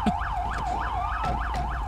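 A tank's wailing siren in GTA 5 sweeps up and down in a fast, regular yelp, about six cycles in under two seconds, steady and fairly loud.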